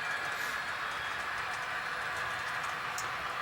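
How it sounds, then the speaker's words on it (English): A model railway train rolls into a snow shed and a large six-turn helix on a garage layout, giving a steady, continuous running rumble throughout at a low, even level. "Train now goes into the snow shed and into a large helix."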